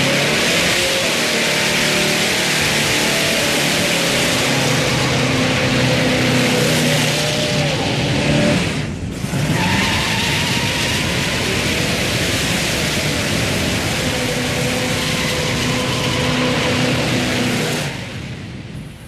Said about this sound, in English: This thing does a great burnout. Once you get them spinning, again, it just wants to keep spinning and spinning and spinning.